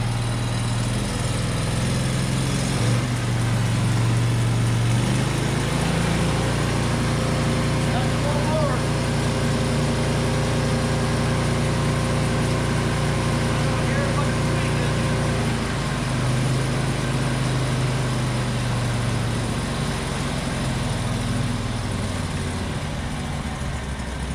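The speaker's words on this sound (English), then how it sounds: "Oh, it's like a go-kart engine." A small gasoline engine on a Norwood HD36v2 sawmill runs steadily nearby, a loud continuous drone with slight shifts in pitch, and a voice is heard briefly over it.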